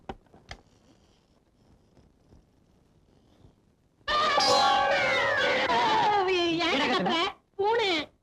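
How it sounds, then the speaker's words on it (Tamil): A cat in a house meows in a long, drawn-out wailing cry with sliding pitch, then a short second meow, loud and close after a few seconds of quiet room noise with faint taps. "பூனை பின்ன இந்த வீட்டுக்குள்ள யானையா வரும்?"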